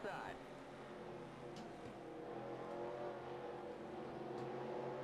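Race car engines in the NASCAR Racing 2003 video game, a Busch Series race at Nazareth, producing a steady, droning engine roar with slight pitch changes, fairly faint throughout.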